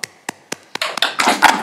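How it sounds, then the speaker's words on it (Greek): Applause for students during a video conference: a few isolated claps at first, then building into dense, sustained clapping from a group, close and loud. "Εγώ θέλω ένα μεγάλο χειροκρότημα"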